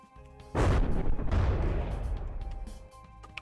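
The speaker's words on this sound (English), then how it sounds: "those explosions are not as big as I seem to remember them being" A deep boom bursts out in the video game From the Depths, followed by a long rumbling roll of explosive blasts that slowly fades, with no voices.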